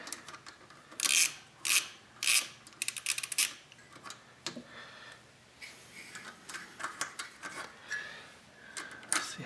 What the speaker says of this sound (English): taking out the carb.